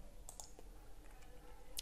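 Computer mouse clicks while running a Java mail program, a few sharp isolated clicks, quiet and close, alone with no talk.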